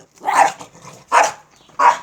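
A dog barks three times in a steady rhythm, each bark sharp and fairly close, with brief quiet gaps between them and no talk over it.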